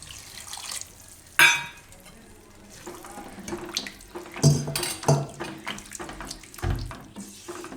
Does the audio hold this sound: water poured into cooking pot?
yes